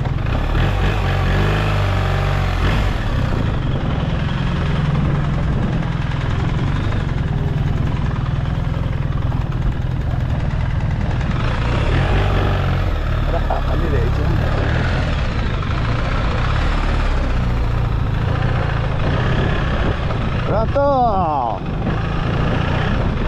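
A motorcycle engine idles in a constant low drone while being unloaded from a ship on the Manaus-to-Belém route. Voices talk over the engine noise throughout.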